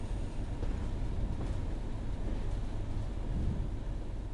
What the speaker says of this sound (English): Reduce the power to 0 and allow the locomotive to coast along the track.